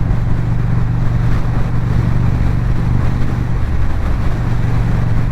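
A motorcycle fitted with new exhaust pipes rumbles with a steady low drone while riding, mixed with gusty wind buffeting, loud and continuous with no talk.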